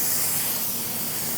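A Harbor Freight Black Widow 2.0 spray gun sprays clear coat, hissing in one steady, close burst of airy spray, loud and even from start to finish.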